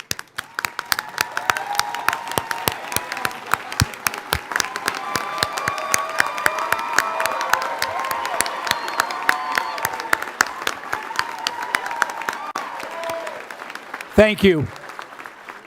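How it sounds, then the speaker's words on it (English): A crowd applauds and cheers the graduates of the 50th commencement at Five Towns College, continuous clapping building over some fifteen seconds. A voice briefly speaks near the end. "giving a round of applause to these graduates, the class of 2024"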